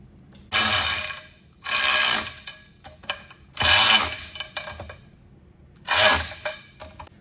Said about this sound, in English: now it's time to tighten down the bolts slightly, and then we can go in and torque them all.